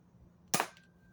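A single sharp crack of a toy cap gun fired outdoors, loud and brief, with a faint ringing tail fading after the shot.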